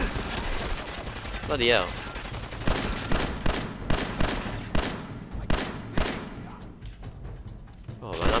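Repeated shots ring out in Fallout 4, sharp bursts of game gunfire spaced irregularly through a busy fight, some landing close and loud, with a voice breaking in over the shooting.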